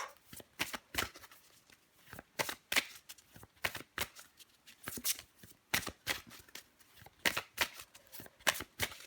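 Tarot cards being shuffled in a steady run of crisp riffling bursts, close and fairly quiet, with no talking.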